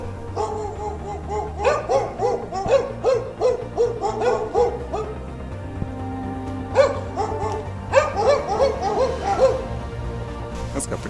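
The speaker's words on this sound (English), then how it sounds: "What the heck's all that barking sound?" A large dog barks in repeated bursts with deep, hooting tones, heard outdoors at moderate distance in two clustered bouts separated by a brief lull.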